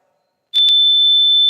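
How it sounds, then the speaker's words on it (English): A quiz buzzer at a junior science and maths national championship sounds once, two short pulses leading into a loud, steady, pure electronic tone that holds to the end. "sound out your buzzer."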